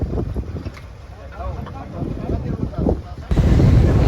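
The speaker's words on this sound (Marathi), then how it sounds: "बघा आपल्यासमोर मोठी बोट चाललेली आहेत" A large boat passes at sea near a fishing vessel off Mumbai, heard as a steady low rumble under wind buffeting, with a heavy surge of engine and water noise at the end while people talk nearby.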